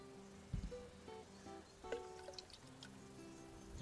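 Wool wash poured from a cap into a bucket holding about 8 litres of water, heard as faint close trickling and dripping with a few small splashes in quiet surroundings.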